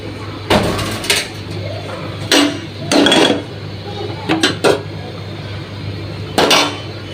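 Pots and pans clanking in a home kitchen while dal is tempered on the stove: sharp metallic knocks and scrapes come in scattered clusters over a low steady hum.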